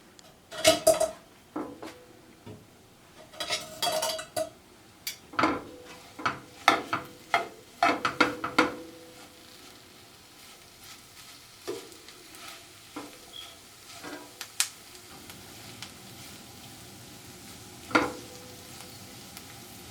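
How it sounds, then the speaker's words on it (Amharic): Green beans and carrots for Ethiopian fosoliya are fried and stirred in a pan, with a faint sizzle under sharp clatters of a utensil against the pan in bursts, then mostly quiet with a few isolated knocks. "ከዚህ በኋላ መጥበሻው ላይ አደርጋለሁ።"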